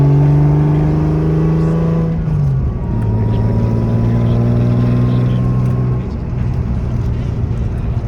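Engine of a Lexus SC300 car on a test drive, a steady droning hum that drops in pitch as it shifts around two seconds in, then holds an even tone throughout, close and loud.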